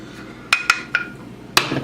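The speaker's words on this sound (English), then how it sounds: "Give it just a little bit of stir." A utensil stirs a lemon-squeezed sauce mixture, giving a few sharp metallic clinks against the container, close and ringing, in an uneven rhythm with quiet between strikes.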